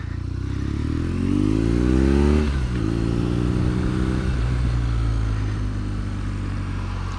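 A BMW R nineT motorcycle with a 1170cc boxer twin engine out on the road, its engine droning close and steady as it revs up and shifts through gears, with no talking.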